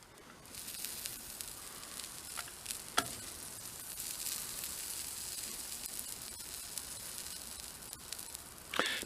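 Steady crackling sizzle of soldering on an electrical contact of a 1931 Ford barn find, a continuous hiss that runs throughout with a few sharper pops, close and moderately loud, with no voices.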